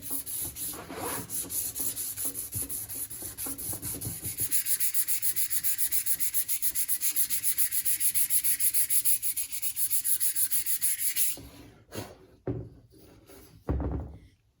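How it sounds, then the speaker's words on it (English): Sandpaper rubs back and forth on a Ford Bronco vent window part in a garage: rapid, loud scraping strokes that build into a sustained rasp, then stop, followed by a few scattered knocks. "We're just trying to get all the scratches and the nicks out and hit it with some primer, then we'll sand it again"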